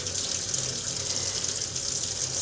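A water tap runs steadily into a sink, rinsing a cyanotype print, with a constant close gush and no other sounds.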